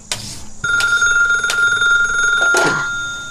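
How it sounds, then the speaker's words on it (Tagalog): A telephone rings with a steady electronic bell tone and repeated sharp pulses, close and loud, with no voices. "Telepono."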